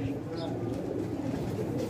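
An old-breed pigeon with black feet coos softly in a low, continuous murmur, while someone talks over it close by.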